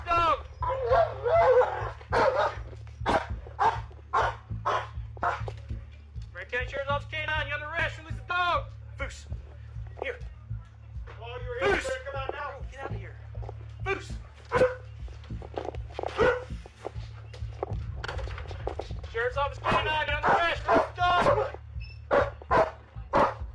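Police dogs bark repeatedly during an arrest at a house, sharp yaps and barks recurring throughout under ongoing talk and a steady low hum.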